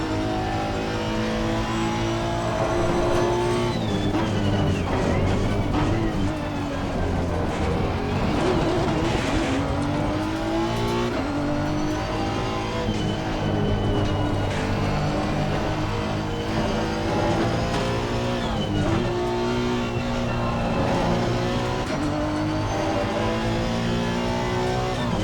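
A Honda NSX EVO race car screams around Laguna Seca in a racing game, engine revving continuously through upshifts and downshifts with rising and falling pitch, loud and close, with occasional tire squeal.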